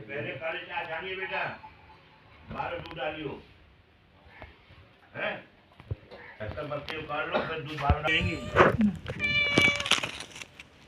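Cats meow repeatedly in short harmonic cries, mixed with dogs and people talking nearby at a temple on the Narmada parikrama route, growing busier and louder toward the end.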